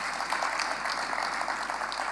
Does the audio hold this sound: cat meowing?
no